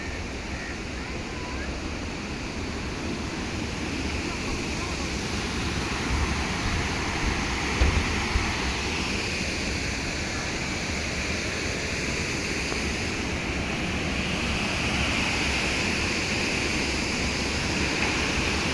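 Steady broadband rush of released water at Mettur Dam, a continuous even roar like a release channel or weir, moderately loud and unchanging throughout.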